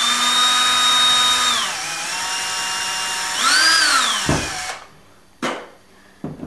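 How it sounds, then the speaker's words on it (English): A power drill bores a hole in a fishing lure, whining loudly and steadily up close, with the pitch dipping and rising under load before it stops and gives a couple of short bursts. "So again, I'll drill this hole"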